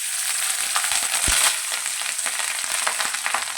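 Pre-cooked rice frying in a pan for fried rice, a loud continuous sizzle with scraping stir noises and a brief thump midway.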